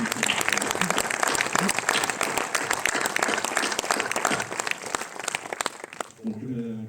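An audience at a Cannes film festival event applauds the film teams in the room, a dense, sustained burst of clapping that fills the space before fading out abruptly near the end.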